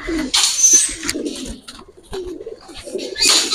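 An old-line pankhi breeding pigeon and its mate coo close by in repeated low, warbling calls, with brief quieter pauses between phrases and a busier stretch of cooing at the end.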